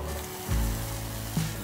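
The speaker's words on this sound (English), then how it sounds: "Nice sizzle going here." Potatoes sizzling in a hot cast iron pan, a steady close frying hiss with a couple of brief louder bursts as pieces shift or settle, no voices.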